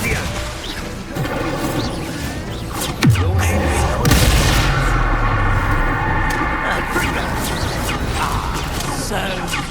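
Incendio fire spell cast in Hogwarts Legacy, a sudden whooshing blast and crash that swells into a sustained roaring burn over dense combat noise.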